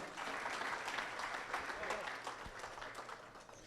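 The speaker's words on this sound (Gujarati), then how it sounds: "પૂર્વ માટે જોરદાર તાળીઓ થઈ જાય" An audience at a Svayamvar matrimonial event held at a Mumbai hotel applauds after a speech, with steady, dense clapping sustained throughout at a moderate distance.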